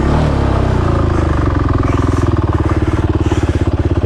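Motorcycle engine revving and pulsing with a steady rapid throb during a wheelie ride, loud and close, growing louder toward the end with no talk.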